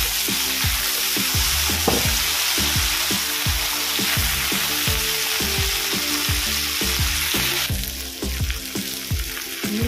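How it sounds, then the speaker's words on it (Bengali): Okra frying in a pan with salt and turmeric, a loud continuous sizzle broken by rhythmic scraping and stirring strokes close up, with no talk over it. "এটা ভালো করে ভেজে নেব ভেন্ডিগুলো।"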